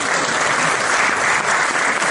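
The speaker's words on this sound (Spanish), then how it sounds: "Un aplauso para Julián, que ya hizo la presentación" Dense audience applause at a presentation, a loud, continuous wall of many hands clapping throughout the short stretch, with no talking on top.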